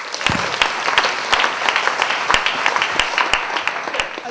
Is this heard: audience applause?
yes